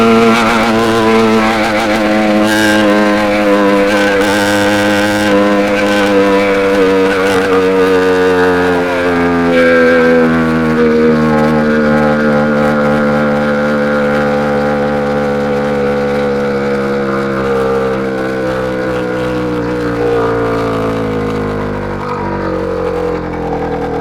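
An 80cc motorized bicycle engine races on public streets, a loud, steady buzzing drone held close throughout, its pitch sliding gradually lower toward the end.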